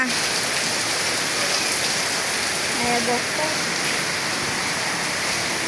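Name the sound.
rain falling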